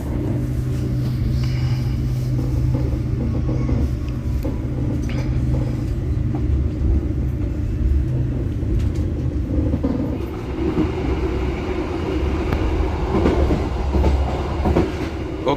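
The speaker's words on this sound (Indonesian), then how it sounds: "kereta api Logawa meninggalkan stasiun Mojokerto" The Logawa passenger train rumbles steadily as it departs Mojokerto station, with rhythmic clacking of wheels and a deep continuous roar, heard close and loud.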